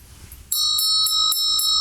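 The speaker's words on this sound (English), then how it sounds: "It's kind of a cheaper bell here." A cheap hand bell with a small clapper and unfinished interior rings in five sharp, evenly spaced strikes, each bright metallic tone sustaining with a slightly dissonant shimmer, close and loud with no talk.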